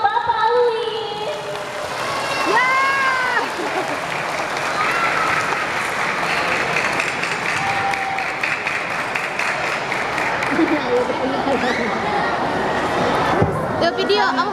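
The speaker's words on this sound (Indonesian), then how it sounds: "Beri tepuk tangan untuk Bapak Louis." A crowd applauds steadily and warmly throughout as an honoree, Mr. Louis, is called on stage to receive an award at a 50th anniversary ceremony in 2023, with voices chattering beneath the clapping.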